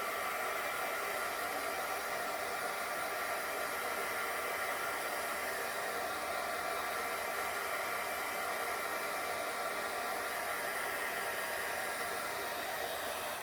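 A hair dryer blows steadily and loudly on a handmade Super Mario birthday cake topper, a constant close whooshing roar with no pauses.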